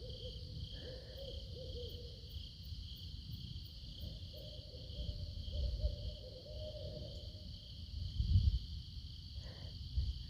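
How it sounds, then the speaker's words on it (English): Three or four owls hooting back and forth across a river before sunrise, repeated calls at middle distance over a constant bed of chirping insects, no voices. "There's about 3 or 4 owls"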